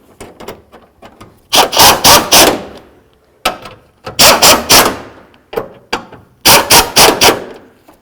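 Wrench snugging up the upper radiator bolts on a 1992-99 GMC K1500, heard as three close, loud bursts of rapid ratcheting clicks separated by short pauses and lighter taps.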